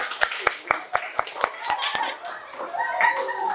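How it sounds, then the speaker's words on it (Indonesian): Children clap their hands in a quick, even run of about eight sharp claps, then the clapping dissolves into giggling, chatter and laughter from the group. "tepuk tangan lu buat temannya biar semangat"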